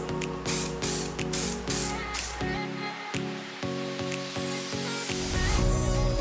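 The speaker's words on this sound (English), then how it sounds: "So to apply my texturizing spray, I want to focus in the root area and all the way down through the ends." Texturizing hair spray hisses out of a can in a rapid series of short bursts, about a dozen quick sprays in a row, close and fairly loud.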